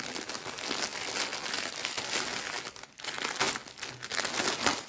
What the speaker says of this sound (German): es ist diese Knisterfolie, wo das Ganze nochmals eingepackt ist